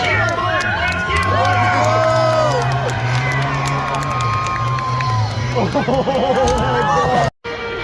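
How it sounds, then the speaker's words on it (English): A loud crowd at a monster truck show at Marysville Raceway cheers, whoops and shouts continuously as a truck finishes the course, with children's voices and a low engine drone beneath, ending in a sudden cutoff. "Let's cheer him on, let's get"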